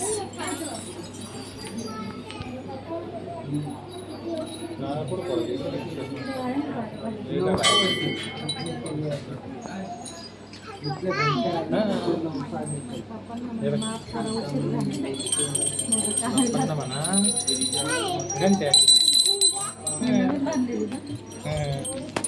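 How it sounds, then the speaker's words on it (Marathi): A bell at a Ganesh temple is struck in a few ringing bursts, bright metallic clangs that rise over steady chatter and voices of adults and children nearby. "हा बघा ते घंटा वाजवून राहिला तो."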